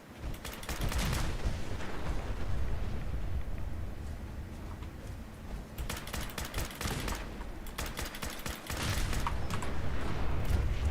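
Gunfire and explosions in the video game Fallout 4: rapid bursts of shots and sharp blasts fire in dense clusters throughout, loud and continuous, with brief lulls between volleys and no speech.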